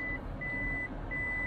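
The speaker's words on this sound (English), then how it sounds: "It wants you to put it in reverse to turn the backup lights on. This thing's going to beep the whole time, I think." A second-generation Toyota Prius in reverse sounds its warning beeps: three evenly spaced high tones over a quiet idle hum.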